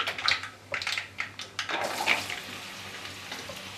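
Raw mango pieces are tossed into hot oil tempered with nigella seeds, mustard seeds and asafoetida, giving irregular close scraping and stirring bursts over a soft, steady sizzle.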